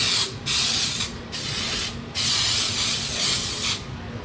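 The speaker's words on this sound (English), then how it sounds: "I'm gonna go ahead and spray my pans." Several quick bursts of cooking spray hiss in succession onto baking pans, four distinct sprays with brief pauses between them, close by.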